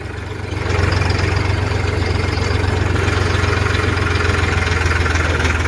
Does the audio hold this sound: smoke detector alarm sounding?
no